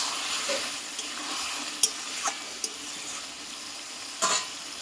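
Mutton curry being stirred in a pan as it cooks down, a soft steady sizzle with scattered scrapes and clinks of the spoon against the metal, no voices.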